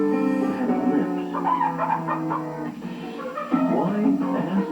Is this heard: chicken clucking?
yes